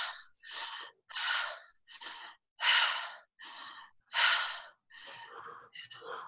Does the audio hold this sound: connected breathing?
yes